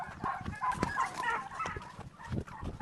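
Loose turkeys and chickens on a farm give short, uneven clucks and gabbles, fairly close but moderate in level, with brief bursts scattered across a few seconds.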